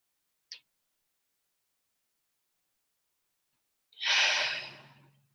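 One deep, long breath drawn through cupped palms held over the nose and mouth, close and soft, after a brief small sound and a quiet pause.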